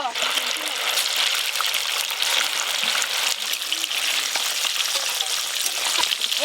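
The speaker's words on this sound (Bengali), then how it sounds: "এদিকে তেল গরম হয়ে গেছে সব কাঠি কাবাব গুলো ভেজে নেবো" Kathi kebabs fry in hot oil during outdoor picnic cooking, a loud, continuous bubbling sizzle that holds steady throughout with small crackles.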